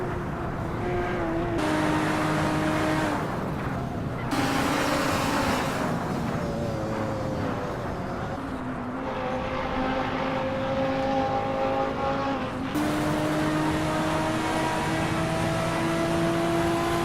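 A Porsche race car in a Hot Wheels racing video game drives continuously with a loud, steady engine drone, the pitch stepping up and dropping back through several gear changes as it accelerates, close and alone.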